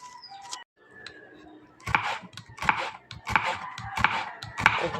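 A knife slices through bitter gourd (ampalaya) on a board, giving crisp, close chopping cuts that settle into a steady rhythm of roughly one stroke every two-thirds of a second after a quiet start.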